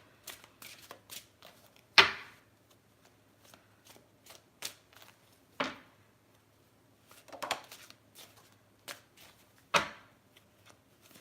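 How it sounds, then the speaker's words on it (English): Tarot cards are shuffled over and over, with soft riffling and sharp snaps at irregular intervals. It is quiet and close, and nobody talks. "I have to make sure I'm shuffling properly here."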